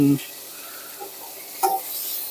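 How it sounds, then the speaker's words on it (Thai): Squid tossed into a hot pan with curry paste for a southern Thai stir-fry with long beans makes a short burst, then a quiet, steady sizzle with a single scrape of a spatula. "ใส่ปลาหมึกของเราลงไปเลยครับผม"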